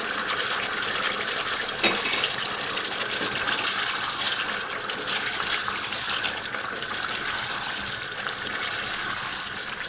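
Water is poured into a chicken and potato curry in a continuous loud gushing stream, steady and close, with no talk over it.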